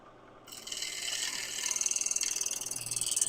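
A scraper ticks against an uneven turned wood surface on a lathe, a rapid, regular ratcheting patter that builds out of a soft hiss, close and clear.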